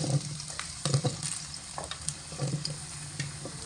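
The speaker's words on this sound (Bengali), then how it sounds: "গরম তেলের মধ্যে দিয়ে দেব কেটে রাখা পেঁপে আর আলু।" Cut papaya and potato pieces fry in hot oil with a soft, steady sizzle, broken by a few light stirring knocks and scrapes, quiet and close with no talking.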